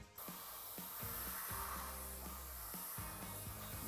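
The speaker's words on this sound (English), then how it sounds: "I want to see how the paint's coming out of my gun" A paint spray gun doing a test spray before painting crankbait lures, giving a continuous airy hiss that starts abruptly and holds steady, quiet and close, with faint background hum and no talking.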